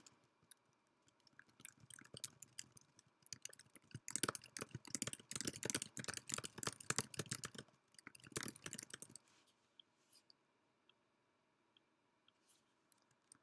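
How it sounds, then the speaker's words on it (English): Fingers type on a computer keyboard in a quiet room, quick irregular clicks that build into dense bursts of keystrokes, then thin out into scattered taps. "as I keep typing"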